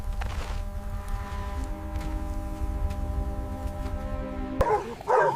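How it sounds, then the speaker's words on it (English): Several African wild dogs snarl and yip at a spotted hyena near a carcass, a steady close growling rumble with a burst of sharper barking and whining calls near the end. "Unmoved by the wild dog's snarls and snapping feints, a hyena pushes through their bluff."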